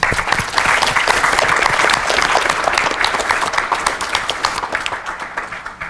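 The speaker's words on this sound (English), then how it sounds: "So let's give Stephanie a huge round of applause." A crowd at a teachers' event breaks into dense, steady applause lasting several seconds, loud and close, fading slightly toward the end, with no one speaking over it.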